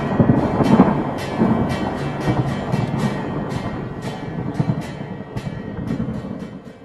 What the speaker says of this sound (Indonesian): Rasa ketakutan ini bahkan dapat sangat diperkuat oleh suara keras pada guntur.